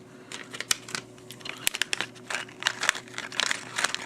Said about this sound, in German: da steht, ich soll es mit einer Schere aufmachen